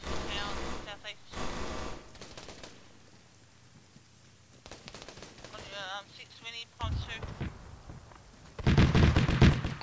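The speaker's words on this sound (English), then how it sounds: "Shots from the town, southeast." Bursts of gunfire in a military shooter video game crackle from a distant town, then grow into a loud, dense volley, with voices talking between the shots.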